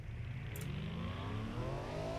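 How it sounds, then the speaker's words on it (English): A 300-horsepower Ford Taurus engine in the video game BeamNG.drive revs, its tone climbing steadily in pitch as it accelerates, heard fairly quietly with no talking. "Oh, that engine tone!"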